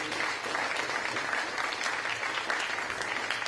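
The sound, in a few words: audience applause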